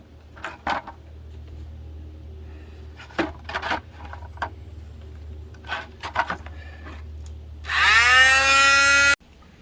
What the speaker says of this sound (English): All right, so we're back to the grinder.